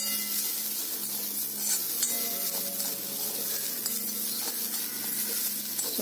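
Green chili and grated coconut being stirred into a purslane stir fry (thoran) in a hot pan, with steady sizzling and soft scraping of a spoon running continuously and fairly close throughout.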